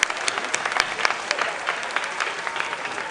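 Audience applause at a school competition for a contestant school, a dense steady wash of many hands clapping with a few sharper individual claps standing out.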